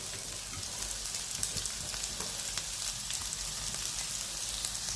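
Grated coconut with cumin, fennel, garlic and shallots roasts in a pan for sambar, giving a continuous even sizzle with faint scraping of stirring underneath.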